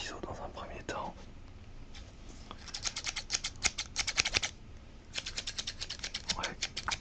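Large barber's scissors snip through hair close to the mic in an ASMR barbershop roleplay, with quick bursts of crisp cuts in rapid runs and short pauses, under soft whispering.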